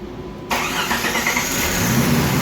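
A Jeep Grand Cherokee engine cranks and catches at once after a PCM repair, settling into a steady, loud idle close by.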